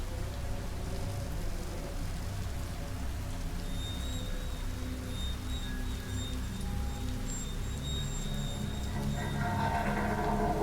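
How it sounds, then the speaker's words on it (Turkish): Steady rain pours in a horror video game, a dense, continuous patter on surfaces with faint tonal game sounds over it, even and fairly loud throughout. "yağmur yağmaya başlıyor"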